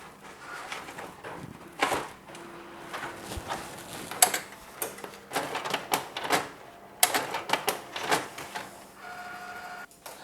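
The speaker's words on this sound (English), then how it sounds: "a couple of attempts at loading paper did not work very well there" An Epson WF-C8 office printer tries to feed thin, curled paper for a long photo print, giving off repeated mechanical clicks, whirs and clacks in uneven bursts, close and fairly loud, with no voices.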